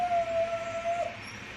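A dog howls in one long, steady drawn-out note lasting about a second, then breaks off. The howl is fairly clear in an indoor room, with no talking over it.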